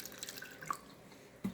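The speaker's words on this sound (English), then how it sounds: "Add some water in here." Water trickles and splashes as it is poured into a pot roast, a faint uneven stream with a soft plunk at the end.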